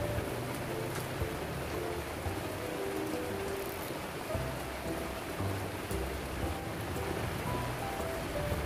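Steady rain pours outside onto a front-yard garden, a dense, continuous hiss of drops on surfaces that stays loud and even throughout, with no voices.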